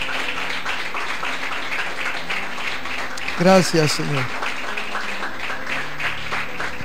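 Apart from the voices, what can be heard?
congregation applause in church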